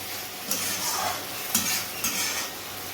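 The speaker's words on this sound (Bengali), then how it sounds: "ভালো করে এবার কষিয়ে নেওয়া হচ্ছে" Fish curry masala being stir-fried in a wok for a pabda fish dish, a dense sizzle broken by three distinct scraping stirs of the spatula against the pan.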